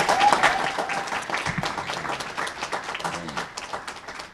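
Audience at a bill signing for building emissions performance standards applauding, a brief burst of clapping that fades under murmured voices and a few shouts.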